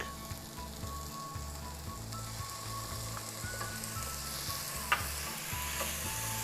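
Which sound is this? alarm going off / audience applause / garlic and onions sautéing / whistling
garlic and onions sautéing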